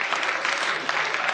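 An audience claps steadily in a dense, even burst of applause lasting just over a second, with no pauses.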